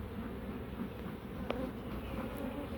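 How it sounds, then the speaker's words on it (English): A dense, steady hum of many bees packed into a full hive, droning close and continuously with no pauses, with a faint short tick partway through. "There's a lot of bees in here, ain't there?"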